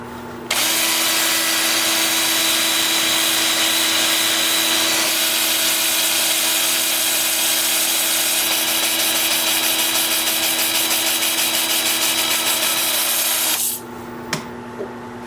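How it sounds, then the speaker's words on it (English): A 2-inch 80 grit sanding disc run in reverse at about 375 RPM against a turning wood piece on a lathe gives a steady, loud grinding whir with a constant motor hum that holds for over thirteen seconds, then cuts off. "I'm going to start the sanding in reverse at about 375 RPM, 80 grit 2-inch disc"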